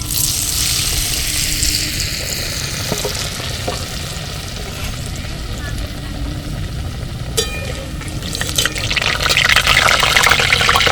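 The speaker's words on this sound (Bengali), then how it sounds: "লাল লাল করে ভেজে নেব" Battered potato snacks frying in hot oil give a steady, loud sizzle with bubbling crackle throughout, briefly stirred, swelling louder toward the end.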